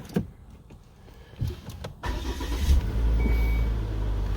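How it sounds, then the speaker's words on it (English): A Volvo S60 is switched on: a few clicks and an electric whirr, then the engine catches around the midpoint and settles into a steady, fairly loud idle rumble. "You want to see what happens when we turn the car on?"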